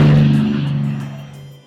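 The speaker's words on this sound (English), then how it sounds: "here comes that Mustang. It's not a radial engine" A P-51 Mustang's inline piston engine roars close by at an airfield, a loud steady drone with a strong low hum that gradually fades as it passes, alone without talk.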